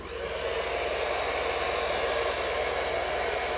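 A hair dryer blowing steadily on a man's hair after a haircut, a constant close whooshing roar that holds an even level throughout with no voices.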